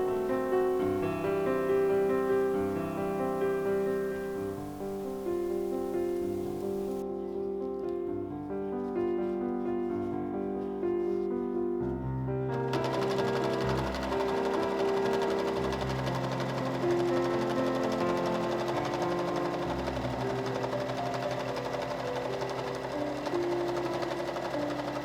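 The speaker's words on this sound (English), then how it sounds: "sew away approximately 5/8 away from where your first seam was" Sewing machine stitching boning channels in linen Regency long stays, a steady rapid mechanical whirr and patter running close and continuously, with a brief pause partway through and no voices.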